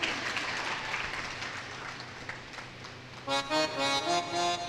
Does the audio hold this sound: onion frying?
no